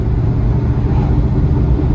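A 1969 Dodge Charger R/T engine drones steadily during a country ride, a loud, low rumble with road noise, no talking.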